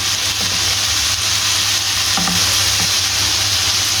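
Afghani malai seekh kebabs fry in a hot pan with a constant loud, dense sizzle and hiss, plus a few faint scrapes as they are turned, and no talking.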